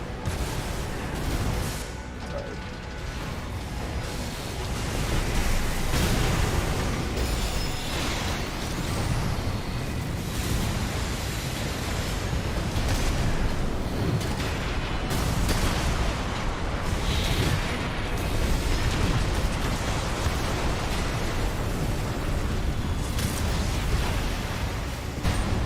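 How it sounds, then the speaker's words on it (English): Dense, continuous explosions and heavy combat blasts from the mech video game Armored Core, loud and booming throughout with a constant roar and no pauses, for about twenty-five seconds without talk. "I can't hear you over the explosions."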